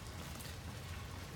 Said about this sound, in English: I'm out for a walk in the rain this morning